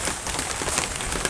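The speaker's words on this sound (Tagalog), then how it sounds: "Umuulan kasi kaya hindi tayo makakakyat doon sa bundok." Steady rain pattering on surfaces at the Patag resort in Silay, Negros Occidental, a dense, even hiss of drops heard close and fairly loud, with no voices.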